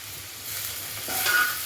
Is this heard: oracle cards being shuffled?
no